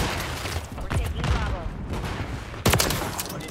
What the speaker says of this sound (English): Oh, this shotgun is nasty.